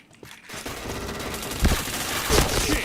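Rapid bursts of gunfire from a shooting video game, dense overlapping shots forming a fusillade with louder impacts near the middle and end, continuous and fairly loud with no talk.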